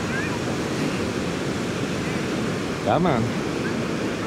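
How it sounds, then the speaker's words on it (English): Ocean waves washing onto a sandy beach at Venice Beach, a steady loud broadband roar of surf throughout, with a short spoken remark and a brief vocal sound near the middle. "Look at those waves."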